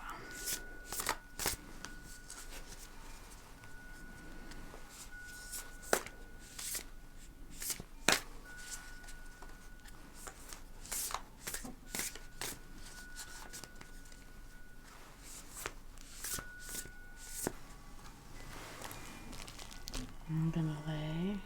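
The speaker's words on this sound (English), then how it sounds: "I did shuffle these a bit" Oracle deck cards being shuffled and handled in short crisp bursts of riffling and tapping, close and soft, with a steady faint tone running beneath.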